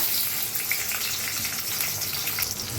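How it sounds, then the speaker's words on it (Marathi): Onion drops into hot oil in a kadhai for restaurant-style fried rice and sizzles in a dense, continuous hiss heard close up, with faint clinks and no talking. "कढाईत तेल चांगलं तापलंय त्याच्यात टाकूया आपण कांदा"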